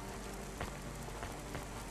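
Steady rain falling in the video game Cloudpunk, a dense even hiss of drops on surfaces with a few faint taps, soft and constant with no talking.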